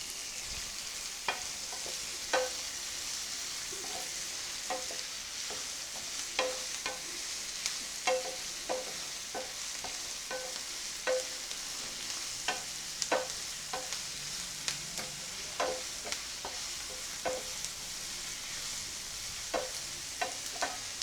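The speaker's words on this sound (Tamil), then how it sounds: "வெங்காயம் லைட்டாக வதங்கிடுச்சு" Onions sautéing in a pan for mushroom pepper masala. A quiet, steady sizzle is broken by regular sharp taps and scrapes of a spatula against the pan, evenly spaced throughout, with no voices.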